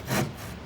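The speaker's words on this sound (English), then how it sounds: "Who's sawing now?" Wood being sawn by hand in a short, close rasping stroke that swells and fades within a fraction of a second, standing alone with no talk.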